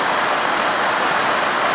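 Heavy morning rain pours steadily during a storm around nine o'clock, a loud, even hiss of drops on surfaces with no pauses or voices.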